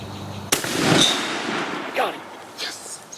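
One sharp, loud shotgun blast from a turkey hunt in Tennessee woods, close by, followed by a fading echo and excited voices.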